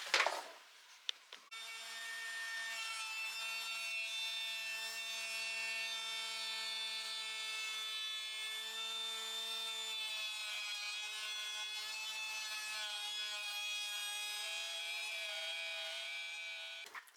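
Hole saw powered through wood, a sustained high whining cut with a steady tonal buzz that holds evenly for about fifteen seconds after a brief start, close and alone.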